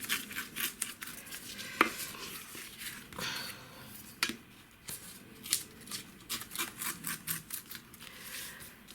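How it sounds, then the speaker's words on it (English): Repeated crisp snips of scissors cutting through paper, irregular and fairly quiet, with light rustling between cuts. "if I've got scissors, I'm just going to cut these ones"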